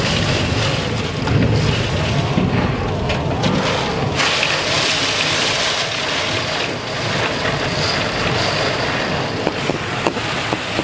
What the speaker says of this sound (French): Le vent.